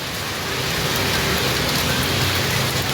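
Heavy rain pours steadily onto a flooded street in the Waihaong area of Ambon, a loud, dense, unbroken hiss of downpour and splashing water close by for the whole stretch, with no voices.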